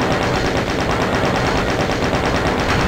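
Sustained, dense machine gun fire from a chaingunner enemy in a Doom mod, loud and continuous rapid bursts with no pauses across the whole stretch.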